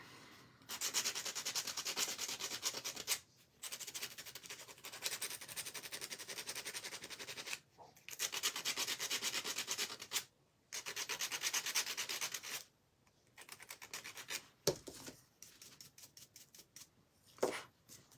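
Sandpaper rubbing back and forth over a surface while gluing a small piece, in long steady scratchy strokes with brief pauses between them, close and fairly loud, with no talking.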